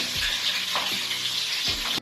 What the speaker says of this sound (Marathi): तेलामध्ये हा डाळीचा तडका बनवते बघा.